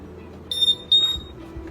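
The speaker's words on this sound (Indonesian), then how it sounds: "dan buzzer akan mengeluarkan output suara" A medicine dispenser built for the elderly sounds its buzzer: two short, fairly loud high electronic beeps in quick succession over a faint background hum, with no talking.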